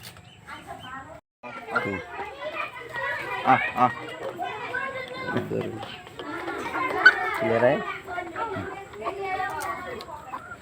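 Free-range desi chickens cluck and call close by amid children's voices and background chatter, with several bursts of clucking spread across the stretch.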